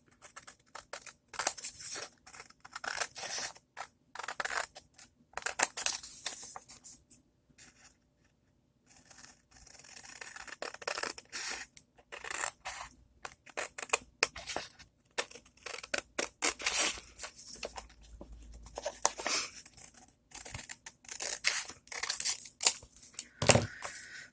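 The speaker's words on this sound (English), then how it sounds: "all we have to do is cut everything apart" Scissors cut apart paper pieces for pockets and cards in a dinosaur-themed junk journal. Repeated snips and papery scrapes come in uneven bursts with short pauses, fairly close and without speech.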